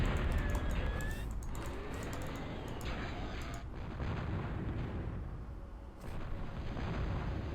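Missile attack explosions in a video game battle form a dense, continuous roar of overlapping blasts and rumbling impacts, fairly steady throughout with brief dips and no speech.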